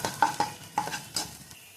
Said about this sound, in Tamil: நான் ஒரு கடாயில் இஞ்சி, பூண்டு, பச்சை மிளகாய், வெங்காயம் வதக்கிட்டுருக்கேன்